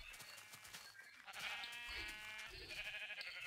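Sheep bleat repeatedly at close range amid a busy shearing session, with a steady mechanical hum and clatter underneath and the calls swelling louder toward the end.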